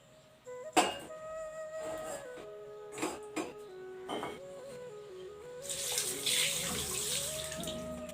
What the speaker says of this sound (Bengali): তার আগে হাতটাকে ধুয়ে নিই, দাঁড়াও